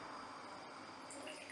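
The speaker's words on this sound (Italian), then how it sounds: "andiamo a versare 100 ml di acqua" Water poured into a container while mixing a homemade two-ingredient deodorant spray: a steady, close, fairly quiet splashing trickle that runs unbroken for the whole moment, with no talking.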